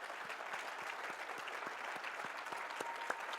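A church congregation claps together in steady, brisk applause, heard from some distance in a reverberant hall, faint and even throughout.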